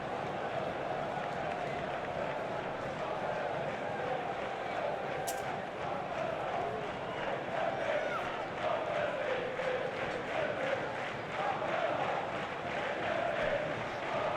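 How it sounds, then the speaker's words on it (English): Sunderland football fans fill a stadium with a continuous, rhythmic chant, the massed voices blending into a steady, even roar that holds for the whole stretch. "That's why the crowd, the Sunderland fans, are singing a cheeky song."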